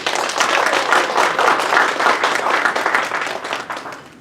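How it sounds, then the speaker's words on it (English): An audience applauds a guest speaker at an Earth Day school event, a dense steady wash of many hands clapping, loud and sustained before tapering off near the end. "Let's give her a big round of applause"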